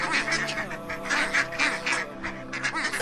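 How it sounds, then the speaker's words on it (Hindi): Large ducks and geese honk and quack loudly in a dense, overlapping chorus of repeated calls, close and continuous, with no talking. "दरवाज़े से बाहर आते ही बड़ी बत्तखों और मुर्गाबियों ने इमाम अलैहिस्सलाम का रास्ता रोक लिया और ज़ोर ज़ोर से आवाज़ें लगाना शुरू कर दिया।"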